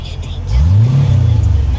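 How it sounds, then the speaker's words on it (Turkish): A 1984 Porsche 928 engine nearby revs up from idle into a rising, throaty growl, then holds at a higher pitch. "Hafif gaz veriyorum."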